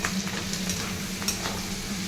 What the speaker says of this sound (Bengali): এরপর আমি কেটে রাখা কাঁচা লঙ্কাগুলি দিয়ে দিলাম।